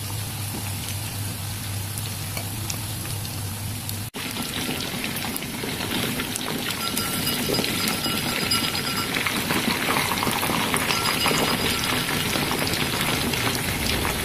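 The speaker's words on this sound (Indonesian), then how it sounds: "Panaskan minyak goreng lalu goreng ayam" Flour-coated chicken sizzles steadily in hot cooking oil, a continuous loud crackle and hiss like heavy rain that carries on without a break and grows slightly busier partway through.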